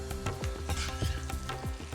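Half a kilo of onions frying toward golden brown for Sindhi bhugal mutton, heard as a low bubbling sizzle broken by quick repeated scraping strokes of stirring in the pot.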